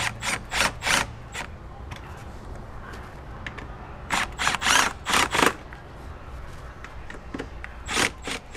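Bolts on a rear tire carrier for a Lexus GX470 are tightened with a ratchet, short bursts of rapid clicking separated by quiet pauses, close and clear, with no voices.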